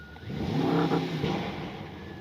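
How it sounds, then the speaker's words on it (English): A Brabus 930 V8 engine in a 2024 Mercedes revs up with a deep, throaty artificial roar heard from inside, swelling then easing to a steady rumble. "you have the fake interior sound as soon as you really push it"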